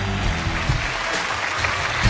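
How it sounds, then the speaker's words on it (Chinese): A studio audience at a televised relationship show claps in a short, dense burst of applause that lasts about two seconds. "掌声有请。"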